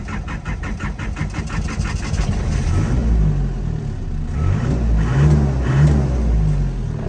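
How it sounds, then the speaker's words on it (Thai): An older Nissan Big-M pickup truck engine runs during a short test drive, a steady, close mid-pitched rumble that rises slightly as it revs, with no talking. "ผมพาเทสการขับขี่วนแบบ สักรอบหนึ่งครับ"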